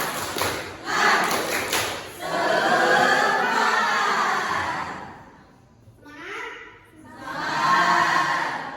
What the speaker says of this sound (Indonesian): Ya, 1, 2, 3, tepuk semangat.